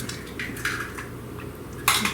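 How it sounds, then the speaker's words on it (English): An egg being beaten into pumpkin batter in a bowl, with a few light clinks and scrapes of utensil against the dish over a quiet background. "now I'm going to beat in 1 egg"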